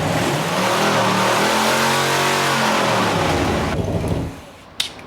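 Car engine revs up and falls back in a sweeping rise and drop, loud and close, after mothballs were added to the fuel tank, then cuts off with a brief clunk at the end.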